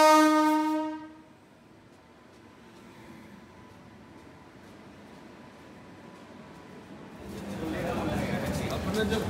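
The 18184 Ara to Tatanagar Express sounds a long, loud horn, then rumbles steadily on, growing louder near the end as it moves.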